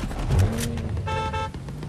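Car engine in Fortnite, a close, steady motor drone with a brief rising whine, no talk over it.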